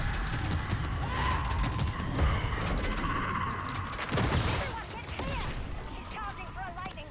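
Weapons firing at zombies in Call of Duty Zombies: dense, sustained volleys of shots with crashing impacts and booms, steady and loud throughout, under a talking voice.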